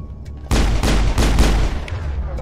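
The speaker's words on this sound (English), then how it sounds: "Shooting." Gunfire erupts in Mass Effect as a loud, sudden burst of several heavy booming shots in quick succession, with a low rumble that fades over the last second.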